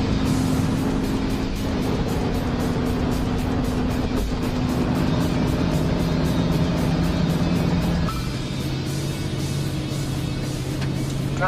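A car drives along Clinton Highway, its interior filled with a steady engine drone and road rumble that shifts slightly in pitch partway through, continuous for about eleven seconds without talk.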